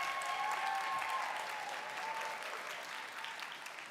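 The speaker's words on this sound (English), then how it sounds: "would you please recognize and give them a round of applause?" Steady, full audience applause rings out at a graduation ceremony to honor the graduates' loved ones, a dense wash of many hands clapping that holds for several seconds and eases slightly toward the end.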